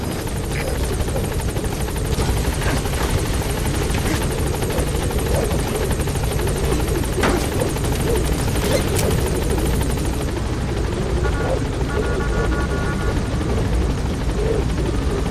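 The helicopter Pequod from Metal Gear thrums loudly and continuously as it arrives at a landing zone, its rotor wash a dense steady roar that fills the whole stretch, with faint tonal game sounds near the end.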